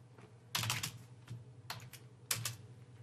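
Clicky bursts of typing on a computer keyboard, quick runs of keystrokes separated by brief pauses, close and fairly quiet over a low steady hum.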